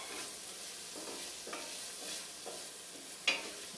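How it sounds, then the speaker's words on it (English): Oregano and cumin roasting in a pan while being stirred, a soft steady sizzle with a rhythmic scrape of the spoon about once a second and a sharper clink near the end, close with no talking. "So just want to roast that oregano a little bit. Get that cumin mixed in real well."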